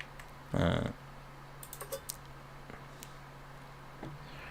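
A computer keyboard is heard as a few quiet, scattered key clicks with one short louder burst, faint and close.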